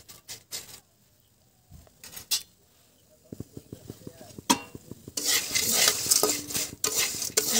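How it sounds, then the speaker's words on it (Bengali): Pieces of atta roti being fried into chips are stirred in a pan: scattered scrapes and rapid clicking of a spatula against the pan, then a loud, dense sizzle takes over. "রুটিগুলোকে সবসময় নাড়তে থাকতে হবে যেন পুড়ে না যায়।"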